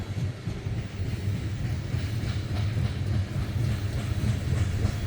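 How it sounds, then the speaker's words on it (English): A long Powder River Basin coal train in Wyoming rolls past behind locomotives with a steady heavy rumble and faint clatter of wagons on the rails, close and continuous, with some wind noise. "Two locomotives and one DPU. Move all this coal up through these hills and valleys."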